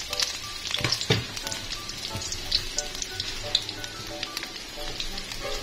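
All the ingredients for a tofu dish sauté together in a pan, crackling and hissing up close with scattered spatter pops and occasional stirring scrapes.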